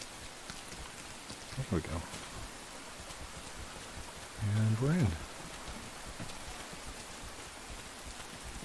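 Steady rain falls in the video game Rain, a constant soft hiss that runs through the whole stretch, with a person speaking briefly over it.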